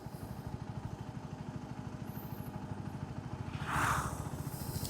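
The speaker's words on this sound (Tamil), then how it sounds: "இந்த பைக்கை ரைட் பண்ணி பார்க்கலாம் ஸ்டார்ட் பண்ணுறேன்" A KTM 400cc adventure motorcycle engine thrums at a steady pulsing idle-like rhythm, fairly faint and close, with a brief rising rev or rushing swell near the end.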